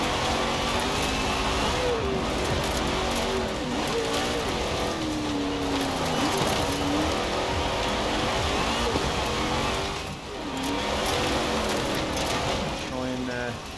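A B Class car's engine revs and strains continuously in a racing video game on the North Cliff Scramble course, a loud, steady drone with shifting pitch and a brief dip near the end.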